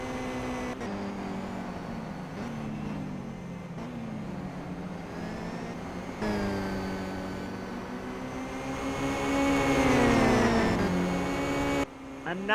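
Supercar engines race in the Simraceway sim racing game, several cars droning and whining as they pass, with engine pitch sweeping up and down and a louder revving surge toward the end; a commentator talks over it.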